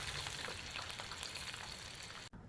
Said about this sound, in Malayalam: ചിക്കൻ സെക്കൻഡ് ഫ്രൈ ചെയ്യാൻ ഓയിൽ ഹൈ ഫ്ലെയിമിൽ ചൂടാക്കിയിട്ട് നമ്മൾ നേരത്തെ വറുത്ത് വെച്ച ചിക്കൻ ഇടാം.